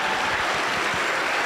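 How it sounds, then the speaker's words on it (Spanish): A church congregation claps loudly and continuously for a pastor, a thick, even wash of applause that fills the whole stretch without any speech. "el pueblo de Dios le recibe con fuerte aplauso para el Señor Jesús"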